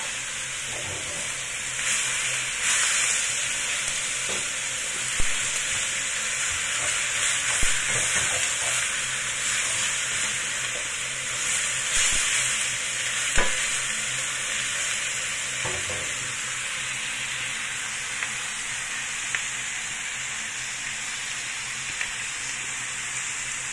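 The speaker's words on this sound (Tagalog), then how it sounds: "So, ngayon ihalo na natin lahat." Chicken curry being stirred in a hot pan, with a steady frying sizzle and hiss and a few scraping or clinking strokes of the utensil scattered through, close up and with no talking.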